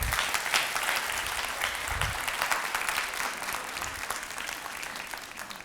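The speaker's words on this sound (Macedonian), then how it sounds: "ние ќе дадеме еден громогласен аплауз" An indoor audience claps steadily for an award winner at a ceremony, a dense, even wash of many hands that holds for several seconds without voices.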